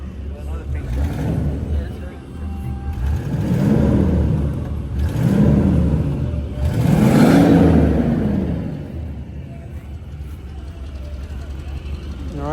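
An all-original Box Chevy engine revs in several rising and falling surges as the gas is pressed, loud and close, with people talking over it.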